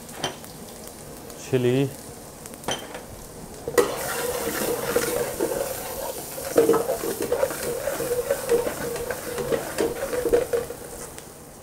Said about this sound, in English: You see the oil is nice and hot, and that's why they're all spluttering